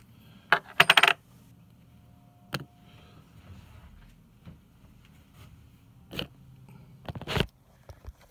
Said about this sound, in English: Now I packaging your chip and sending to you.